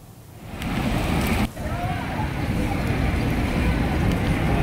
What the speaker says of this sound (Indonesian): angin kencang disertai hujan melanda kawasan Masjid Nabawi Madinah pada Kamis sore waktu setempat